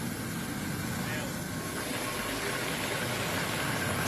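A helicopter hovers at low altitude in strong wind over a flash-flood relief area in Nagan Raya, making a continuous, dense engine roar and rushing noise that holds steady throughout.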